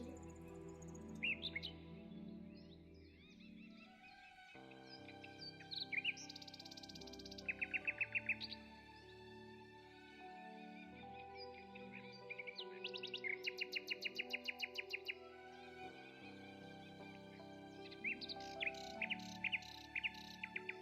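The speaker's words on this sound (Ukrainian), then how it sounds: "пташки невеличкі, снігури, горобчики, синички, сестрички" Small birds at a winter feeder, bullfinches, sparrows and tits, give bursts of high rapid chirps and twitters over steady tonal music playing underneath.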